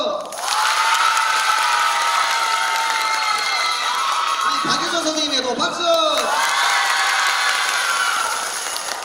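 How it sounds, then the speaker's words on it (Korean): An audience at a high school festival claps and cheers loudly for the whole stretch, with whoops and children's shouts over the applause and an announcer's voice joining in. "선생님부터 차례차례 박수 한번 해보겠습니다"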